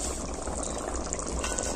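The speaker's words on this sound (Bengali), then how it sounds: "এবার এটাকে আমি কিছুক্ষণের জন্য ঢাকা দিয়ে সেদ্ধ করতে দিয়ে দিচ্ছি" Chickpea ghugni simmers in a covered pot, a steady bubbling boil that stays even and close throughout, with no one speaking.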